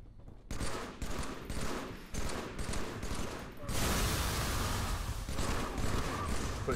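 Weapon fire in the Halo 3 video game comes in repeated bursts, then settles into a sustained, steady barrage toward the end.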